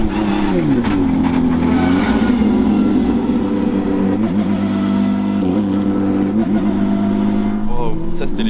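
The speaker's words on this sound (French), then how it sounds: "ça c'était les GT3 Cup, celles qui font les courses normalement" Porsche GT3 Cup race cars rev and accelerate at a car event, their loud engine notes rising and falling in sweeping pitch changes, close by, with crowd voices and talking mixed in.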